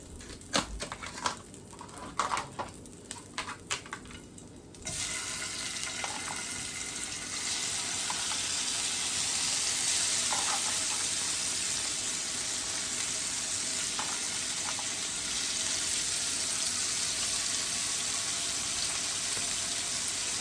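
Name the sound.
shrimp sizzling in a pan with cabbage and sausage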